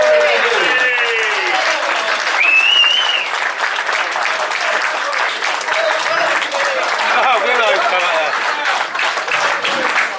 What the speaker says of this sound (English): And you give them a few rounds of applause